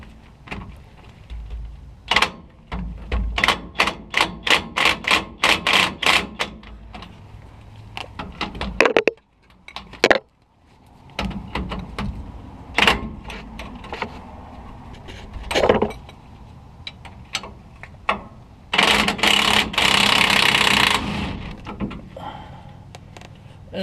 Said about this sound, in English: I am going to use my impact to get these off